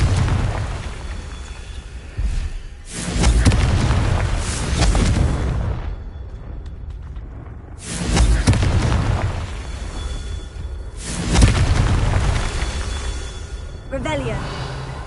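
Confringo blasting-spell explosions in Hogwarts Legacy, a run of loud booming bursts with rumbling tails, several blasts spaced a few seconds apart, with speech also present.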